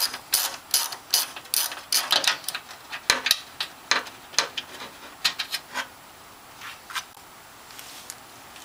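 A hand ratchet backs out a 10 mm metric center fender bolt on a 4x4 while fitting a hood lifter kit, giving rapid bursts of close, crisp clicking that trail off into a few scattered ticks.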